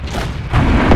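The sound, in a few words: tank cannon fire in World of Tanks video game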